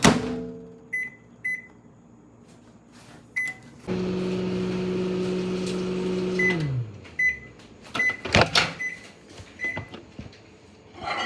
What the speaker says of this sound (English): Put this in the microwave, and we're gonna start off with 25 seconds, so it's nice and melted